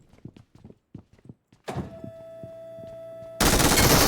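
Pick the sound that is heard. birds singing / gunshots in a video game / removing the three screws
gunshots in a video game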